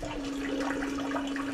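Water runs steadily in a hotel room bathroom in Osaka after a control-panel button is pressed, a close, even hiss with a constant tonal hum underneath, no talk.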